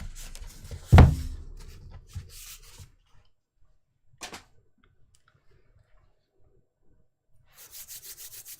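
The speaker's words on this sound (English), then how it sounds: "I keep rubbing my hands together because I put some cream on them" Hands rubbing together after hand cream is applied, giving a loud brushing burst near the start, then scattered soft rubs and a quiet gap before a run of rhythmic swishes toward the end.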